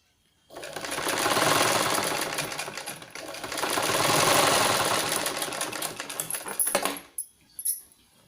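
A sewing machine stitches fabric in two long continuous runs of rapid, steady whirring, loud and close, followed by a few short bursts before stopping.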